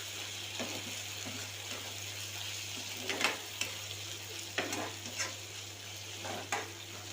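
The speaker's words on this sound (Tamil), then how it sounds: "ஒரு நிமிஷம் சிக்கனை இப்படி வதக்கலாம்." Chicken sautéing in a pan as a spoon scrapes and knocks against the metal in a few uneven strokes, over a soft sizzle and a steady low hum, fairly quiet and close.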